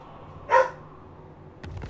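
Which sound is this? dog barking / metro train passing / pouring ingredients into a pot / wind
dog barking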